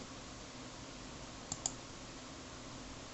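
Two quick mouse clicks land close together, mid-stretch, while clicking through Microsoft Access, sharp and near against a faint, steady room hiss with no voices.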